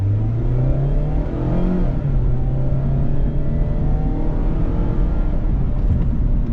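A 2024 Mazda MX-5 Miata RF Grand Touring pulls away from inside the cabin, its engine rising in pitch through the gears in a loud, continuous roar, with no talking.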